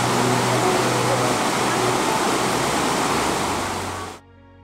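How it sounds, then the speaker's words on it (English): Fast-flowing river water rushes steadily into a lake beneath a suspension bridge in Tasmania, a loud, broad continuous roar with no talk, cutting off abruptly near the end. "the fast-flowing water as it winds its way into and out of the lake"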